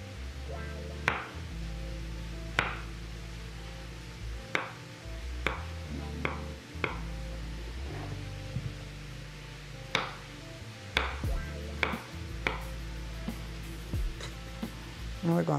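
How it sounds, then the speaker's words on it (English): A knife slices leek on a cutting board with a string of sharp, uneven chops and taps up close, some spaced, some in quick clusters, over a low steady hum. "we're gonna slice it like this"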